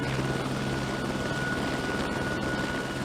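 A transport helicopter built to carry eleven troops drones on steadily in flight, its rotor and engine forming a continuous, loud, even roar with no voices.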